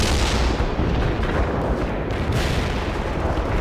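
Dense, continuous video game artillery booms and blasts fill the clip, a loud unbroken barrage of battlefield noise with no pauses.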